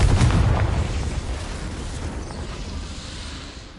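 A Confringo spell explosion in the PS5 game Hogwarts Legacy: a deep, booming blast bursts out loudly at the start, then rumbles and fades slowly over a few seconds.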